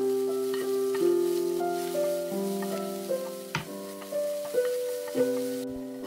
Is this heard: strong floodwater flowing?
no